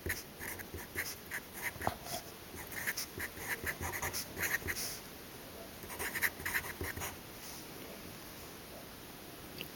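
Pen or marker scratching on a board in short repeated strokes, faint and close, with brief pauses between bursts of writing.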